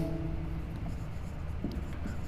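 A pen writes out a solution for a tenth-grade probability practice problem, producing a steady scratchy scribble close up under a low background hum, with no speech.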